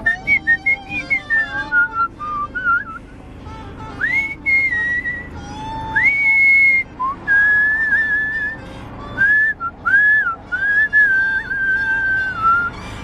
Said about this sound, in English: I'm the world champion whistler